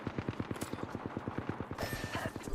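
Rapid automatic gunfire from an Apex Legends match, a steady stream of close, evenly spaced shots lasting over two seconds, with a second burst of shooting layered in toward the end.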